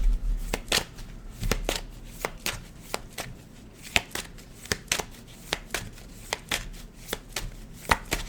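Deck of tarot cards being shuffled by hand, a series of short crisp riffling snaps repeating at an irregular rhythm close to the microphone, with no speech.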